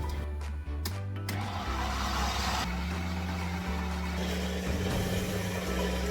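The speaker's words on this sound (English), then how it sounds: "I blended the water and the oats until it becomes like a smooth batter" A kitchen blender whirs through water and oats, its motor droning loudly and steadily with a couple of brief pitch dips and surges as the blades churn the mixture, no voices present.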